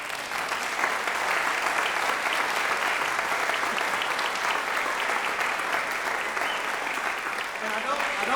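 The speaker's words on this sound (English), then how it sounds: "let's give Bob a round of applause" A room full of people gives a sustained round of applause, thick and steady clapping that carries evenly from start to finish with faint voices mixed underneath.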